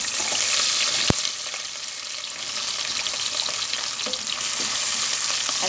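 Onions dropped into hot melted ghee sizzle loudly and steadily, with a sharp clack near the start and light stirring scrapes over the continuous frying hiss.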